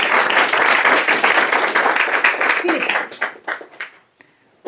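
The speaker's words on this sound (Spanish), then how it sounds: "Les pido por favor un fuerte aplauso" Loud audience applause at a book presentation, a dense roar of clapping that thins into a few scattered claps and dies away to near silence at the end.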